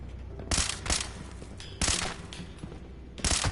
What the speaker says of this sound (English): There's a lot more shots than we should have used there.